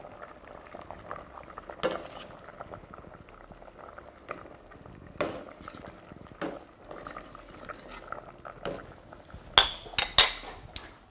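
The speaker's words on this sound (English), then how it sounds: "You'll see the curry's come up to the boil." A Thai pumpkin and coconut curry bubbles at a low boil in a pot, with soft liquid burbling and a few sharp clinks of utensil against metal and dishes, the clinking growing busier toward the end.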